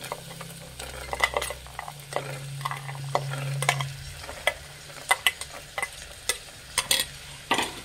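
Lima beans sizzle in hot oil tempering while a spoon scrapes and clinks sharply against the pan in irregular stirring strokes.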